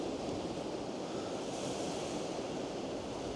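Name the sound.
choppy sea waves at the Blackpool seawall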